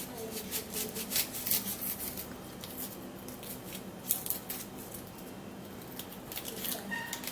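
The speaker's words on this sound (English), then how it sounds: "Peeling off the dry peel of this onion." Dry papery onion skin being peeled off with quiet crackling, rustling and scratchy tearing sounds, soft and close, continuing in short bursts throughout.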